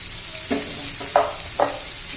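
Masala sautéing in hot oil for a stuffed ridge gourd dish, a steady close sizzle broken by a few soft stirring scrapes of the spoon against the pan.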